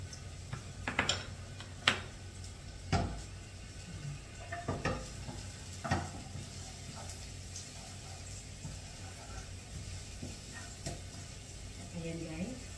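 Garlic sizzling steadily in a hot pan while being stirred, with scattered clinks and scrapes of a utensil against the pan and a low background hum throughout.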